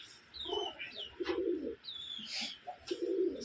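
Rajshahi Giribaj pigeons, a silver-coloured pair including a big-sized hen, cooing in repeated low throaty phrases close by, with occasional thin chirps above and no talking.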